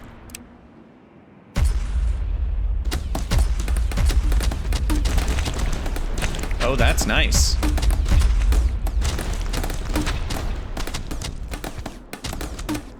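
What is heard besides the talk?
ship cannon firing in the video game From Glory To Goo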